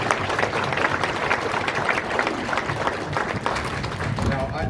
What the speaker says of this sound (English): I think that deserves a round of applause, everybody.